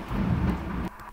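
Loud, deep rumble of thunder during a rainstorm, a broad heavy roll that holds steady for most of a second and then drops off abruptly, with no voices.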